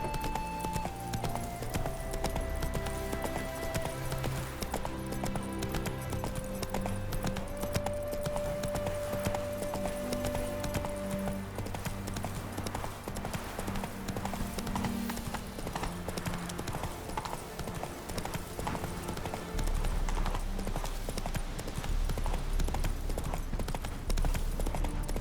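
Roach the horse gallops in the game The Witcher 3, a steady, rapid clip-clop of hooves that runs throughout over a continuous musical score.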